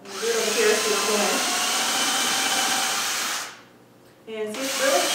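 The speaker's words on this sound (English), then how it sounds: "I'm just gonna countersink these noodles real quick" Power drill countersinking screw holes, a steady high whirring drone that runs loud for about three seconds, cuts out briefly, then starts again, close to the microphone with no talk over it.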